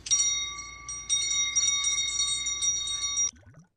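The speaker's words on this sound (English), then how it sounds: "Dude was trying so hard to ring the bell." A bell being rung, with a sustained, bright ringing that has several steady metallic tones. It is struck again partway through, rings on for about three seconds close and loud, then stops abruptly.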